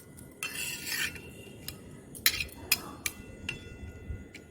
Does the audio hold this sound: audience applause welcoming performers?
no